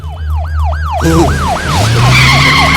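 A wailing ambulance siren sweeps up and down steadily and loudly, with a vehicle engine rumbling beneath and a second siren tone joining near the end.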